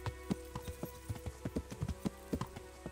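Horse hooves clip-clop in the medieval video game Kingdom Come: Deliverance, an even, close trotting rhythm of distinct hoof strikes heard on their own.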